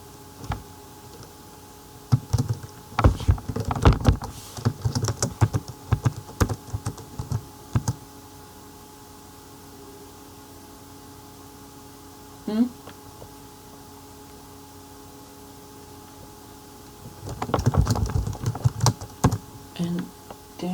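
Computer keyboard keys clacking in irregular bursts while code is typed, with a long pause in the middle and a brief tone, then another flurry of keystrokes near the end.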